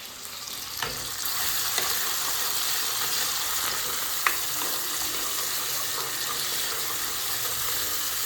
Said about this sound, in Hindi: अब हम डालेंगे इसमें प्याज